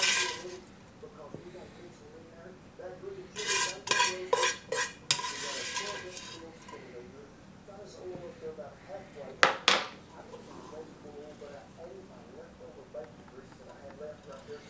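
Cooked elderberries are scooped out of a pot into cheesecloth, with spoon scrapes and metallic clinks against the pan in short bursts. One sharp knock comes partway through, and a person talks under it all.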